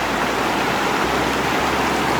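Rushing white water of a stream pours steadily past the edge of a smooth, slick run, a close, continuous broadband roar with no pauses.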